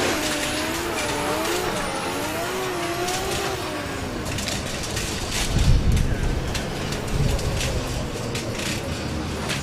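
Drift car in a pro qualifying run at Driftland, a VP Racing S14.5 smoking its Westlake rear tyres, with loud engine revving and wavering tyre squeal throughout, a heavier rumbling burst near the middle, and commentary talk over it.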